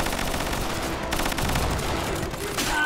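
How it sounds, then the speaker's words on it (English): Rapid bursts of gunfire in the World War II shooter game Easy Red 2, dense and loud, heard alone without talk. "See if I can make a few shots at him."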